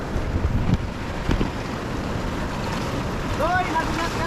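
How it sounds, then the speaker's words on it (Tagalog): Boat crossing big open-ocean waves off Palawan, with steady wind and water rush, low thumps of hull slapping swell, and brief faint voices near the end. "Sa laki ng alon."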